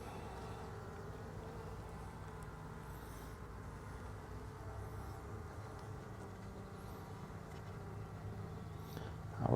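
Honeybees from a newly installed package colony hum steadily around frames of comb in a hive, a continuous low droning buzz, close and even throughout, swelling slightly at the very end.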